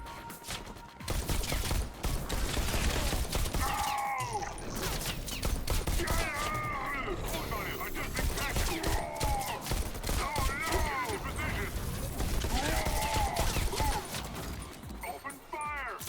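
Dense, sustained gunfire volleys in the VR shooter Bullet Train fill the scene alongside clattering game effects, while a voice speaks over the steady, loud barrage.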